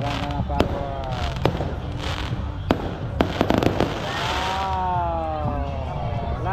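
Fireworks burst at a birthday celebration at Fiesta Adventure Park in Lipa City, Batangas, with several sharp cracks and booms followed by a sustained crackling fizz, loud and close, while voices react in the background.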